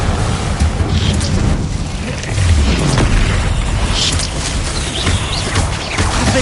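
Confringo fire-blast spell explosions from the video game Hogwarts Legacy, booming bursts in a busy continuous battle mix with other spell effects, loud throughout with no talk.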